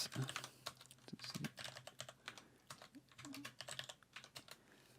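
Computer keyboard typing a command into a command prompt: a steady run of close, crisp key clicks with irregular rhythm and small pauses, no talking.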